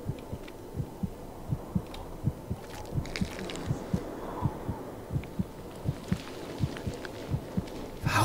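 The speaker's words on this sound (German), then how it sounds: "Warum denn schon wieder dieser dussliche Herzschlag?" A heartbeat sound effect from the video game The Cursed Forest: steady, evenly spaced low thumps repeat throughout over a soft ambient backdrop, fairly quiet and with no voices.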